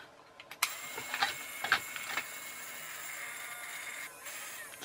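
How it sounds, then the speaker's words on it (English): Small brushed electric motor with worn brushes, salvaged from a junk pile for an RC hovercraft, runs with a steady close whir, a few sharp clicks and rattles breaking through early on. "Got a lot of torque, that motor"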